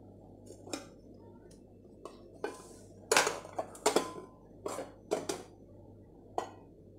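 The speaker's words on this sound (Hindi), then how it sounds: "तो इसे हम प्लेट में पलट देते हैं" A cake being turned out of a kadai onto a plate gives off several sharp clinks and knocks of metal and dishware, spread irregularly and fairly close, with no voices.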